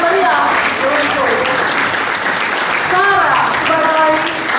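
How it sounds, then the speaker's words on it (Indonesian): Sustained audience applause fills a hall at the KKIA 2022 Christmas celebration, a dense steady wash of clapping with a voice speaking over it at moments. "Dan dengan bangga kita berikan tepuk tangan meriah untuk"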